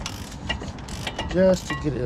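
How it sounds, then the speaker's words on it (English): A Milwaukee electric ratchet wrench works on a car brake during a rear pad and rotor job on a 2013 Buick Lucerne, giving a short motorized whir and clicking mechanism sound amid workshop clatter, fairly close. "I'm gonna use my ratchet wrench, electric ratchet, Milwaukee."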